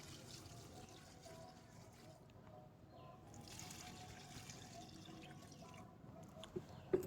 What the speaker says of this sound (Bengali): জলটা এমনভাবে দেব যেন সবজির খোসাগুলো সব জলের মধ্যে ডুবে যায়